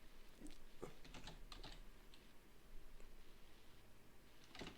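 Someone types on a computer keyboard with quiet, irregular clusters of light key clicks, close but faint over a soft room hiss.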